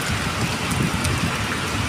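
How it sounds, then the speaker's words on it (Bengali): Heavy nor'wester rain pours down onto a street with water rushing along it, a dense, loud, unbroken roar of drops with no pauses. "কি বৃষ্টি হওয়া হচ্ছে, রাস্তা দিয়ে জল কিভাবে যাচ্ছে দেখুন"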